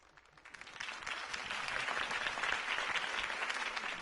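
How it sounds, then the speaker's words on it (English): A large crowd breaks into sustained applause after a campaign speech in a video game, the clapping swelling quickly and holding dense and loud throughout. "could have heard that applause"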